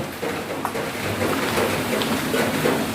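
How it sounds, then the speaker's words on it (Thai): Steady rain falls at an outdoor building site where a concrete yard is being poured, a continuous close hiss with no voices. "ฝนตกครับ"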